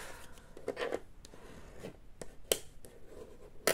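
Paper being creased into folds by hand, giving soft, close rubbing and scraping strokes with a few sharp crisp presses, quiet and without talk.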